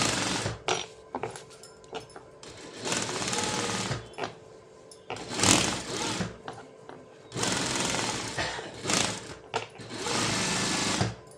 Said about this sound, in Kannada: ಇದಾದಮೇಲೆ ಈಗ ಲೈನಿಂಗ್ ಮೇಲೆ ಸ್ಟಿಚ್ ಹಾಕ್ತೀನಿ